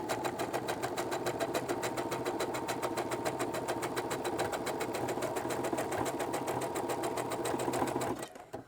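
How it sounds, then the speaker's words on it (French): A sewing machine stitches two elastic strips together, running as a steady, fast, close mechanical whir with regular needle clicks that continue evenly before stopping abruptly near the end. "Et je couds les deux élastiques ensemble sur 1 cm."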